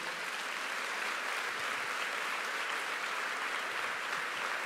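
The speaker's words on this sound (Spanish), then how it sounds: "¿Cuánto le dan un aplauso al Señor, hermanos?" A church congregation applauds for the Lord during a Spanish-language sermon, steady, dense clapping from a crowd heard at a moderate distance, sustained without a break for several seconds with no voices over it.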